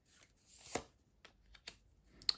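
Quiet, close-up papery riffling and soft snaps of cards being shuffled, in a few short bursts.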